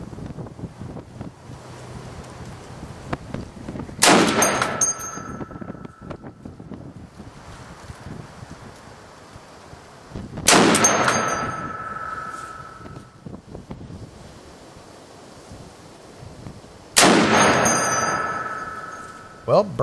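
Three sharp, loud gunshots from a semi-automatic .50 BMG rifle, spaced several seconds apart, each with a ringing metallic tail, over steady wind noise outdoors.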